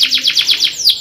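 A canary sings a loud, close run of bright, rapidly repeated chirping trills, each note sweeping downward in a steady rhythm.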